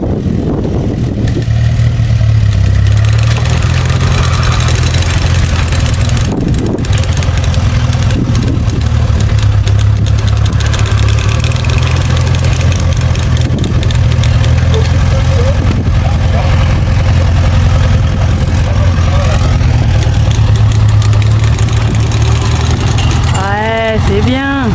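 A small engine on an old farm hay rake idles after a carburettor repair, a loud, steady low rumble running throughout, with a few brief rising whistles near the end.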